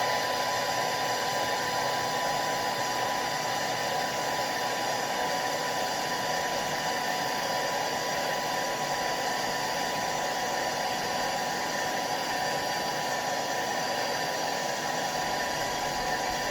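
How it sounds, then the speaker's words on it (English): Hair dryer blowing steady heat onto a Star Wars sticker to lift it off, a continuous even whir with a faint tonal whine, held close and unbroken throughout, no speech. "this time when I do the hair dryer, I'm going to hold it up on front of me"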